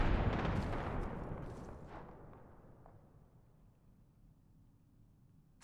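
A frag grenade blast in the shooter game Apex Legends, a loud burst at the start that rumbles and decays over several seconds into a long fading tail, ending with a sudden sharp noise.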